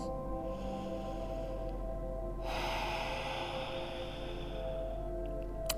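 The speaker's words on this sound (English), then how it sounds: "bring your breath back to inhale and exhale from your nose" A slow yoga breath drawn in and pushed out through the nose, a soft airy inhale giving way to a fuller, louder rushing exhale, close and alone.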